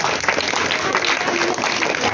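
An audience at a teacher's retirement ceremony claps loudly and steadily throughout, a dense wash of applause with no pauses.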